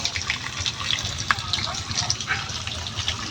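Spring water gushing and splashing steadily close by, a continuous rushing flow with bright splashy bursts throughout.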